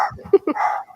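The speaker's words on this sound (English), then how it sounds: "Those are our dogs." Household dogs bark in a short flurry of a few quick, fairly loud yaps and whines, heard indoors over about a second.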